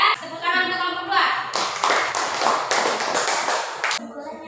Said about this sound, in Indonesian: Dan tepuk tangan untuk kelompok 2.